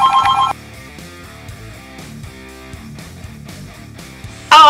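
A toy bat phone rings in short loud electronic bursts at the start and the end. Quieter tonal toy sounds fill the gap between them.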